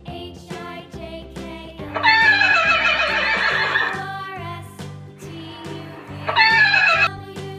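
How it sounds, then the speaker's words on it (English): A horse whinnies loudly twice, a long shrill neigh followed by a shorter one, over a steady low musical backing. "horse"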